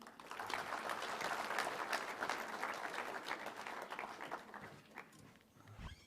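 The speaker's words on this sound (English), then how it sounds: "A big round of applause for everybody here" An audience claps at a health summit's valedictory ceremony, a full round of applause that swells quickly, holds steady, then thins and tapers off toward the end, heard a little distant and without speech.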